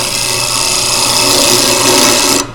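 A woodworking chisel used as a scraper on a pen blank spinning on a lathe, giving a continuous loud harsh rasping scrape that stops abruptly at the end.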